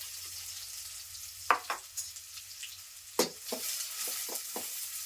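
Thinly sliced onions fry in hot oil over a tempering of seasoning for kadai mirchi masala, giving a steady hiss of sizzling, with a few close knocks and scrapes from stirring in the pan.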